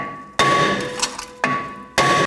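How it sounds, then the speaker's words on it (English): A hammer strikes a brake rotor in three sharp, ringing blows, each leaving a bright metallic tone that hangs briefly before the next hit. "take a hammer, just give a bunch of taps, loosen it up"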